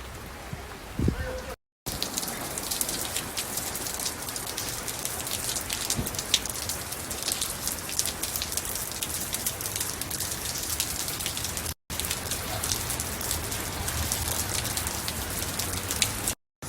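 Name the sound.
rain falling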